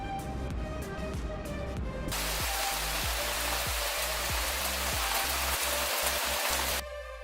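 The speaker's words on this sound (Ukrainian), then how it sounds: "цю пору року часто йдуть дощі" Steady rain falling on a surface, a dense even hiss of drops that runs alone and unbroken, with faint low musical tones underneath at the start and end.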